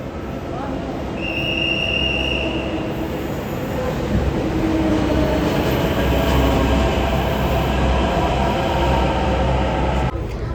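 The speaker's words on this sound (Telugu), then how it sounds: "సో అలా మన మెట్రో జర్నీ స్మూత్గా సాగిపోతుంది" A metro train running on the line in India, a steady loud rumble of wheels and carriage noise throughout, with a couple of brief high squeals early on and no speech over it.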